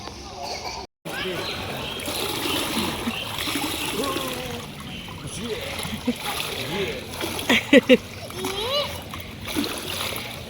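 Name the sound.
water splashing while bathing in a swimming pool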